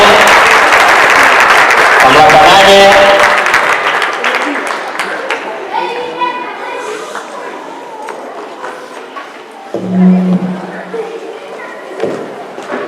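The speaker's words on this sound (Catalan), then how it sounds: "I també un bon aplaudiment" An audience claps at a welcome ceremony honouring champions Xavier Jové and Ramona Gabriel, loud dense applause that fades over several seconds, followed by scattered thumps and a voice speaking.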